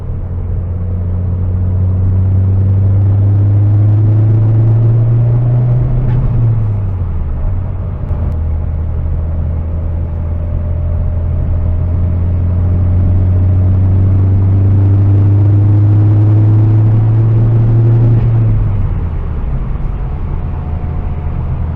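A Saab car with a freshly installed engine on a break-in drive, its loud engine rumble rising in pitch through two long accelerations, easing off briefly between them, heard from inside the cabin with no talking.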